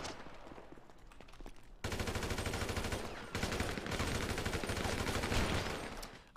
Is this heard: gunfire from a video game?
yes